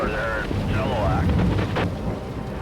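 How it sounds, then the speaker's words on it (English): Heavy rain falls in British Columbia's Fraser Valley with rolling thunder, a dense steady roar of rain under a low rumble, with brief faint tonal sounds near the start. "heavy rain has hit the Fraser Valley"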